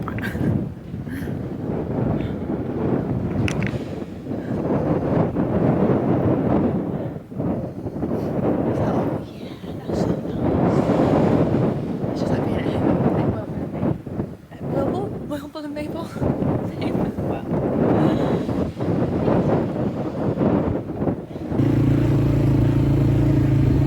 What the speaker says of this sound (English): I don't even know if you can hear me because it's so windy.